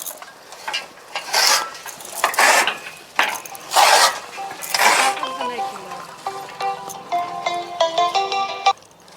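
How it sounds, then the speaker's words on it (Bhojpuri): A melodic phone ringtone plays loudly in the second half, following several bursts of noisy talking and rustling. "फोन करी करते रही"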